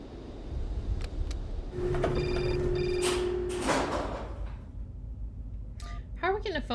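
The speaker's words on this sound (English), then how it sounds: "How are we getting a phone call underground?" An in-game telephone rings in the Syberia adventure game, two short electronic trills close together over a low droning background, followed by shuffling and a faint voice.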